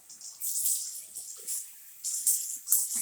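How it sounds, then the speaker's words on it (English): Someone rinses their mouth out with water after flossing: short, close splashing and swishing bursts, separated by brief pauses. "I rinse my mouth out again"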